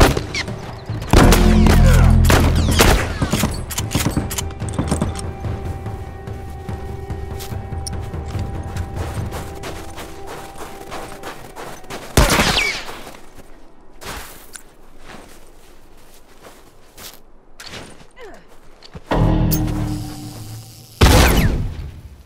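Mounted turret machine gun fires from The Last of Us Remastered, with dense rapid bursts of loud gunfire through the first half, then isolated sharp blasts and booms after quieter gaps.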